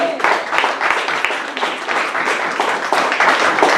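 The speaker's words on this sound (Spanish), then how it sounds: "Dale palmas al Señor" A church congregation claps in praise during a Spanish-language service, a brief burst of dense, lively handclaps from many people with some sharp individual claps standing out.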